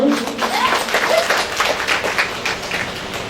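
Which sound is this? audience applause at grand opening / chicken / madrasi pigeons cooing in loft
audience applause at grand opening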